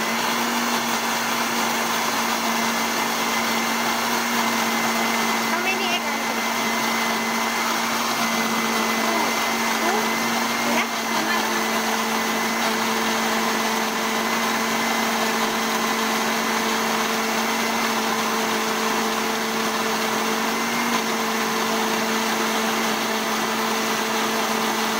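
An electric blender blends vegetables with dried pepper into a smooth mix, giving a loud, steady, close motor whine that holds without a break for the whole stretch.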